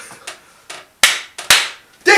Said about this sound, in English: Just clap once.